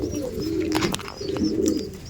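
A female Kasni pigeon coos in low, throaty rolling calls, two bursts close by, with faint rustling in between.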